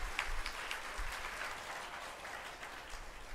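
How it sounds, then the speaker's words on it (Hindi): An audience in a religious discourse gathering claps softly and evenly for a few seconds, a quiet continuous patter of many hands heard at a distance. "एक बार और कम ताली बजा के देखिए थोड़ा।"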